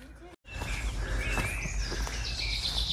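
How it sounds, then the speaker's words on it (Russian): Birds sing in an arboretum with warbling calls and chirps over a steady outdoor background rumble, moderately near and clear after a brief dropout. "А птички как поют, слышите?"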